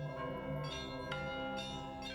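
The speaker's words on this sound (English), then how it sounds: "I am waiting to hear the sound of the bells." Church bells ring from a bell tower in Ukraine, a steady overlapping peal of tolling strikes with a long sustained hum, a few fresh strikes standing out, moderately distant and with no voices.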